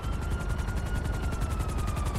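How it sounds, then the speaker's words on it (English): Helicopter rotor in Grand Theft Auto 5, a fast steady chopping thump with a faint whine above it, constant and fairly loud throughout a short stretch with no talk. "There's usually a helicopter in here."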